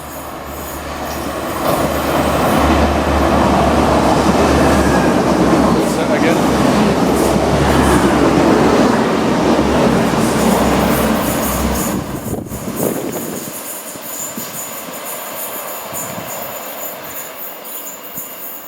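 A train rumbles loudly alongside a platform at a station on the line between Stalybridge and Mossley, with rolling wheel noise and squealing, then fades out, leaving quieter station ambience.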